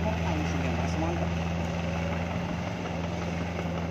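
Steady excavator engine running at a constant idle-like drone, close and continuous with a low rumbling hum and no pauses.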